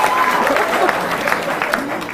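A TV talk show studio audience in 1995 Canada claps in a loud, dense burst of applause that fills the room, with voices mixed in underneath.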